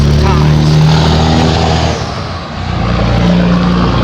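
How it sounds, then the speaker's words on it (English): A loud truck rumbles past close by, its heavy engine drone dipping briefly then swelling again, while a voice talks over part of it. "Some of these damn trucks are so loud."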